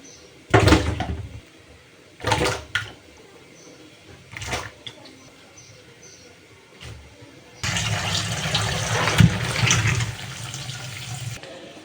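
Onions, garlic, coriander leaves and green chillies rinsed by hand under a running kitchen tap, with a few short splashing bursts and then a steady stream of water pouring into the sink.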